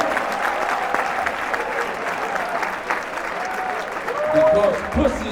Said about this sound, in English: put your hands together and give a nice, loud, raucous round of applause